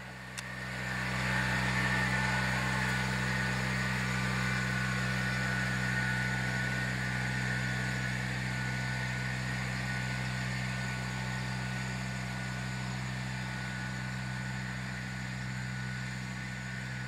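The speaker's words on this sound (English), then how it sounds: "Make sure to drive the tractor straight and at a constant speed." A tractor engine runs steadily while pulling a plastic mulch layer laying drip tape in a field, a constant low drone with humming tones that holds unchanged throughout with no talk.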